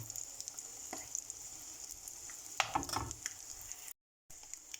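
Eggs fry in butter in a pan as the pooled fat is spooned over them. A soft, steady sizzle runs underneath a few light spoon taps and scrapes, with a brief gap of silence near the end.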